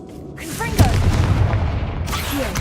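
A Confringo fire spell blasts in the Hogwarts Legacy video game, a loud booming burst with a rumbling low-end roar that sustains through the clip, while a voice talks over it.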